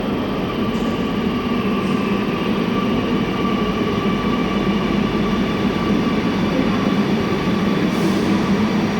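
A Kochi metro train runs with a continuous, loud rolling rumble and a faint steady whine, holding the same level without pause and without voices.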